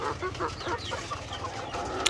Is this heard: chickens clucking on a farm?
yes